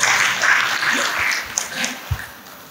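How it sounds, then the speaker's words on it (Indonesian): Audience applause at a Muharram 1444 H religious lecture held at a Malang Islamic high school, steady mid-loud clapping with a few low thumps and faint background voices mixed in. "Tepuk tangan untuk beliau."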